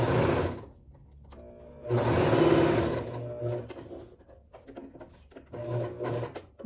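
A sewing machine stitches a folded synthetic leather strap in short bursts, rapid clattering runs starting and stopping with quiet gaps between, close and clear.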